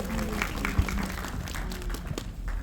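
Audience applause at a Dallas convention, a steady wash of clapping from a crowd that runs throughout with a few sharper claps and some voices mixed in.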